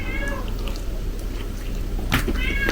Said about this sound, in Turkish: Özellikle bu içeride bağıran var ya Pati yaşlı amca çok rahat bırakmadı kendisin